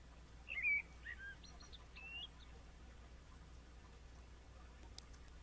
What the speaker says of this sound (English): Oh, yeah, there's a bird in there, actually.